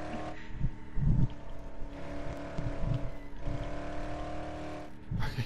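A car drives in a video game, its engine holding a steady droning hum with a few revving surges and bumps, moderately loud with no voices over it.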